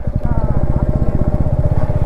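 Motorcycle engine running on a rough road in the hills of North Bengal, a loud, close, rapid rhythmic putter with a voice briefly audible.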